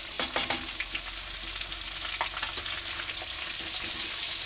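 Onion with ginger and garlic frying over a high flame in a hot pan gives a loud, continuous close sizzle with scattered crackles and light stirring, no voices.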